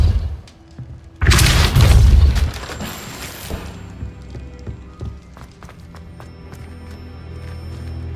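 The Depulso spell is cast in the video game Hogwarts Legacy, a sudden loud whooshing boom that lasts about a second and a half and then decays into lighter clattering game ambience and faint footsteps.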